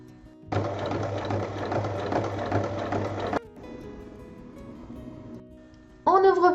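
Sewing machine stitching fabric strips together, a fast mechanical whirring burst for about three seconds, then a quieter slow run before a final short burst.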